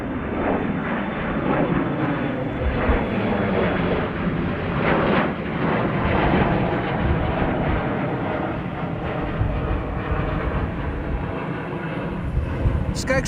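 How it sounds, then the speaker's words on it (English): A Delta airliner takes off at Amsterdam Schiphol Airport, a loud sustained jet roar that fills the whole stretch with a steady rumbling thrust, fairly close and constant. "It does look like Delta is going to take off next"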